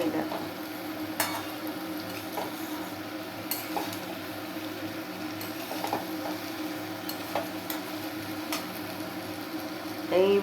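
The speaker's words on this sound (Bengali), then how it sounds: "এবারে একটু ভাজা ভাজা করব।" Food stirred and frying in a pan, with a steady soft sizzle and occasional scrapes of a utensil against the pan, close and continuous with no talk.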